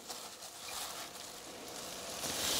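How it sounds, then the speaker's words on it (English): Faint, steady crackling sizzle of meatballs frying in a pan, a soft continuous hiss without any talking. "So there's a nice sizzle."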